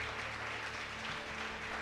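A church congregation applauds, producing a steady, dense wash of clapping at moderate distance, sustained evenly throughout with a faint low hum underneath.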